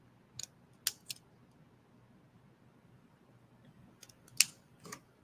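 Scissors snip through scraps of brown paper to cut banner shapes, a few crisp, quiet cuts in short bursts separated by pauses over faint background hiss.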